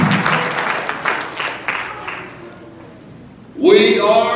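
A church congregation claps hands to the Lord as people take their seats, a brief burst of loud massed applause breaking in after a stretch of someone speaking.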